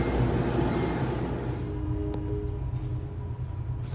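The Dinky train from Princeton passes with a steady, loud rumble and hum that holds throughout, with no voices over it.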